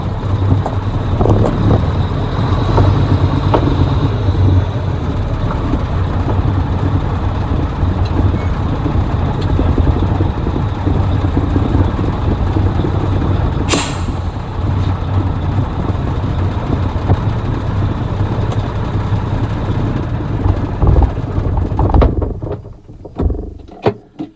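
A 1983 Mack R model truck with a 300 HP diesel engine runs loudly and steadily for over twenty seconds with a deep, rough rumble, then cuts off abruptly near the end, leaving near silence.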